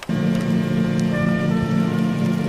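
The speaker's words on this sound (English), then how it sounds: "It's still raining. Why is it still raining?" Steady, heavy rain falls close by, heard from under an awning, as a dense continuous wash of patter with a low rumble beneath and no voices.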